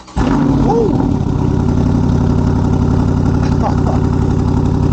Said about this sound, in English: I'm gonna go ahead and give this thing a cold start.